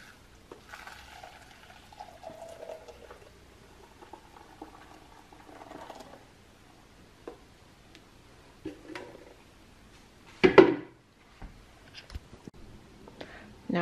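A coconut drink mixture is poured through cheesecloth into a bowl, giving soft, intermittent trickling and pattering, mostly faint, with one louder splash-like burst near the end.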